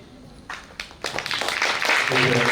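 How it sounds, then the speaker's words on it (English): Audience clapping at a school premiere show at Lourdes Central School: a few scattered claps at first, then swelling into full, dense applause that grows louder toward the end, with some voices mixed in. "These claps are very good."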